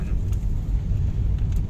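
Heavy predawn road traffic on C5 in Pasig City makes a continuous low engine rumble and tire roar, steady and close, with no talking.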